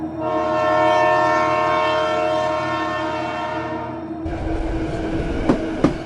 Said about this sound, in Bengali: ঠিক 11টা নাগাদ লাস্ট ট্রেন ছেড়ে দেয়।